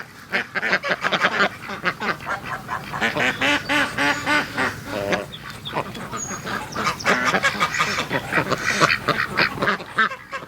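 Ducks quack loudly and continuously, a busy overlapping chorus of nasal calls from several birds close by.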